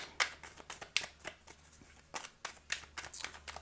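Tarot cards being shuffled by hand: a quick, uneven run of soft riffling slaps and flicks, close and fairly quiet, with no voice.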